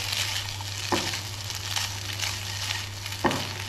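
Macaroni being stirred with a spoon in a pan, a steady close sizzle with a low constant hum underneath and two distinct spoon knocks against the pan.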